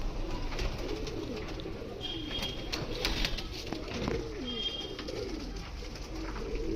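Soft, low cooing of pigeons on a rooftop repeating in rounds, with faint chirps and outdoor ambience in the background.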